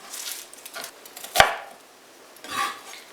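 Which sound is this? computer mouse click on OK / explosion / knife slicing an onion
knife slicing an onion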